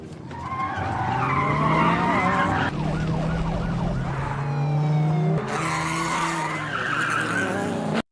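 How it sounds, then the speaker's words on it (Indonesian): Tyres skid and squeal through a tense car chase in a film scene, loud and continuous with engines roaring, a sharp break near the middle and a siren-like wail mixed in. "Aksi kejar-kejaran mobil yang menegangkan pun terjadi."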